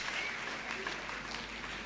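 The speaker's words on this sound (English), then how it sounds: "So let's give a big round of applause to all our teachers." Steady applause from a school day audience at Madras Christian College Higher Secondary School, a dense wash of clapping heard at a distance with faint crowd murmur.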